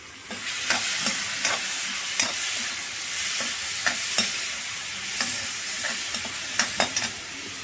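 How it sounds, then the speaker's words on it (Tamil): Garlic, onion, capsicum, pepper, cumin and mustard seeds frying in sesame oil, a steady close hiss with repeated scraping stirs and small pops throughout, no voices. "பூண்டு, வெங்காயம், குடமிளகா, மிளகு, சீரகம், கடுகு, கருவேப்பிலை இது எல்லாமே சேர்த்து மொத்தமாக போட்டு நல்லா ஃப்ரை பண்ணுவோம்"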